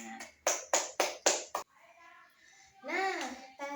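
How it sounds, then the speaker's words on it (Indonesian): A classroom of children claps in unison during a microteaching lesson, five sharp rhythmic group claps in quick succession, followed by children's voices and chatter. "Oke, tepuk tangan untuk kita semua."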